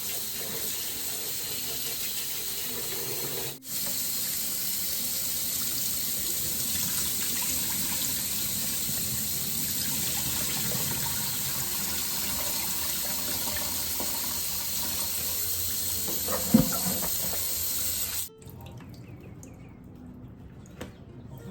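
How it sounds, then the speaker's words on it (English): Cold tap water pours into a kitchen sink over cabbage in a steady, even hiss that runs for about eighteen seconds, then cuts off and leaves the room nearly silent. "drain the hot water out with cold water"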